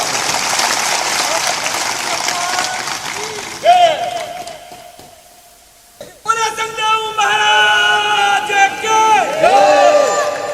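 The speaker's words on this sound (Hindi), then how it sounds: "ताली तो बजा दिया करो" A crowd claps and cheers loudly at a spiritual discourse gathering, with a brief lull before a second surge of applause mixed with voices and whoops.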